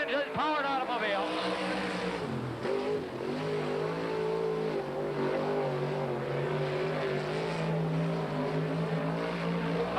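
A 1987 World of Outlaws sprint car racing in qualifying at Hales Corners, a loud, steady engine roar that climbs and dips as it laps, filling the air continuously.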